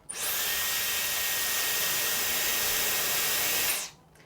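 A Dyson Airwrap hair styler blows steadily at high speed for several seconds while styling curtain bangs, a loud, even whoosh with a faint whine that cuts off sharply near the end. No one talks over it.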